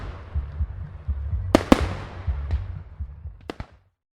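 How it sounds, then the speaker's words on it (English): Fireworks burst over a lake at midnight on New Year's, sharp loud bangs spaced irregularly over a low rumbling crackle, fading to silence at the end. "counted down together as midnight struck and the fireworks went off over the lake"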